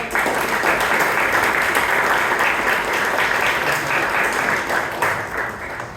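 A Toastmasters Club meeting audience in Bangalore breaks into sustained applause, a loud, dense roar of many clapping hands that holds steady and eases slightly near the end.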